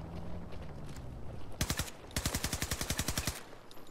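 Rapid SMG bursts in Battlefield 2042: a short three-round burst, then a longer sustained string of evenly spaced shots, loud and close with no talking.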